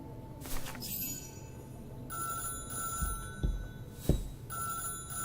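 A telephone rings in the video game Syberia: The World Before, with repeated electronic ring bursts over a low ambient game soundscape and a couple of soft thuds.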